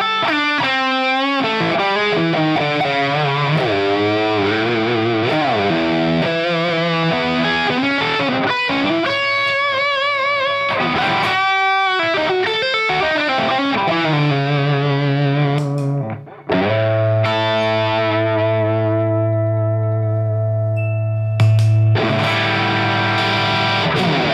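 Electric guitar driven through a RedSeven Alkemy overdrive pedal with the boost placed before the gain stage, playing loud distorted riffs and chords, then ringing out on sustained overdriven notes.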